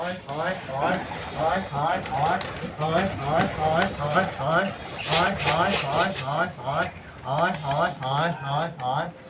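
Pet pigeons coo in repeated soft, rhythmic bursts close by, a steady run of throaty calls filling the whole stretch.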